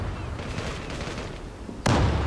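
Gunfire in the online shooter Zula: a steady burst of rapid shots runs throughout, then a louder, harder blast erupts near the end, all close and dense with no voices.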